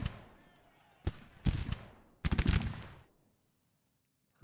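Civil War battle gunfire and artillery in Grand Tactician, Valley Campaign: a single sharp shot, then two dense bursts of rolling musketry and cannon fire at mid distance, fading into quiet.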